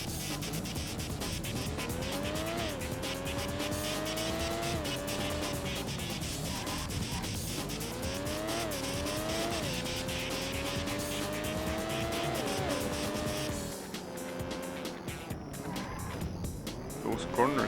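A Porsche race car in the racing game Need for Speed: Porsche Unleashed, its engine loudly revving and climbing in pitch through repeated gear shifts, with tire squeal and rougher road noise toward the end.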